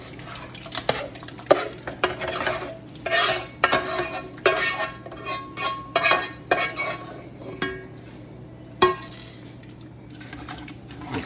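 A spoon stirs oxtail beef stew in a pot with repeated scraping and clinking strokes, close and fairly loud, set against a steady low hum, with no talking.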